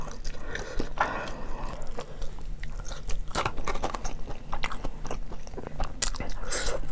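Close, crunchy bites and wet chewing on a barbecue-sauce hot dog topped with green onion, continuous mouth sounds up close with no talking.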